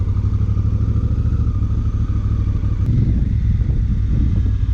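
A 2016 Honda Africa Twin motorcycle being ridden, its engine giving a loud, close, low-pitched throbbing drone that holds steady, with wind rush and a brief clatter partway through.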